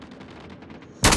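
A single loud, sharp sniper rifle shot goes off near the end of the clip in a Call of Duty match, coming after about a second of low, busy game ambience.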